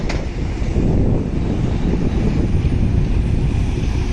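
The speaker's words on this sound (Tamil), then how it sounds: "டபுள் இன்ஜின் போட்டு எப்படி இழுத்துட்டு போய் பாருங்க குட்ஸ் வண்டி" A long goods train hauled by two locomotives rumbles past nearby, a continuous loud low roar mixed with heavy wind buffeting on the microphone, with no talk.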